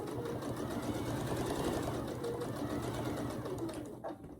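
Domestic sewing machine running a small straight stitch at length 2.4, sewing quilt binding; a steady, close whirring hum that holds evenly, then eases off at the end, with no talk.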